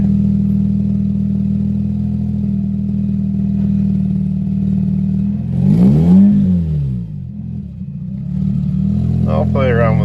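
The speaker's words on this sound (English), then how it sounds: "I just sit here and let the idle run and brake in for a little while" A Mazda RX-8 rotary engine holds a steady, loud idle, then swoops up and down in one quick rev before settling back, close up with voices over it.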